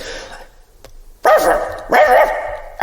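Two loud, close dog barks in quick succession, each sharp and full, with a quieter short yelp and some low background noise before them.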